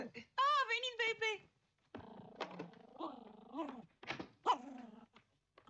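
A dog growls and gives a few yips and barks indoors in a family home, in short bursts with pauses, mixed with people talking.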